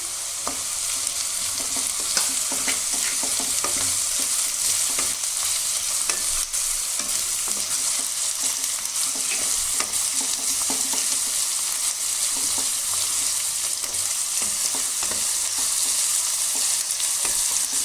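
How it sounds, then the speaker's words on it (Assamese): Garlic and ginger fry in a pan over medium-low heat, giving a dense, continuous sizzle with faint stirring scrapes and no talking. "এতিয়া মই নহৰু দিছোঁ।"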